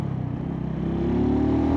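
A Mutt Mongrel 250 motorcycle engine pulls steadily in second gear, its drone rising in pitch as the bike accelerates, loud and close with no voices.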